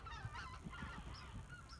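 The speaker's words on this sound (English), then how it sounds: "There's some geese flying over." Geese honk repeatedly as they fly over in a V formation, a scattered series of calls heard outdoors at moderate distance over steady background noise.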